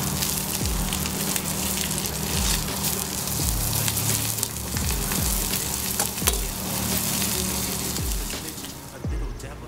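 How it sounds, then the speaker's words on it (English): Tuna steaks sear on a hot griddle or sauté pan with a loud, steady sizzle and crackle, broken by a few soft periodic knocks from the pan. "Sear the tuna quickly, about 2 to 3 minutes on each side."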